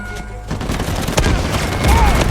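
Heavy gunfire in the action game Uncharted 4, a close, loud stretch of rapid shots and booming impacts that builds in intensity, with a voice briefly mixed in among the shooting.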